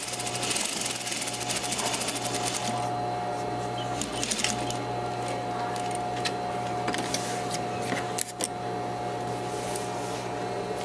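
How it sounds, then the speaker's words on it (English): A sewing machine running a stay stitch on an apron waist, heard as a rapid mechanical chatter in bursts with brief pauses and a steady motor hum beneath. "You're just going to do a stay stitch so we can keep it in place."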